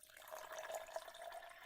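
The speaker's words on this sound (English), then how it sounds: "I got my Uncle Nearest glass. Yes. So I'm gonna pour it." Uncle Nearest whiskey is poured into a glass, a short, quiet trickling splash lasting under two seconds with no talking.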